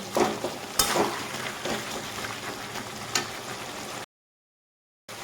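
A mixed vegetable curry cooked with a fish head sizzles in a pan while a spoon stirs and scrapes through it with occasional sharp clinks, then cuts briefly to silence.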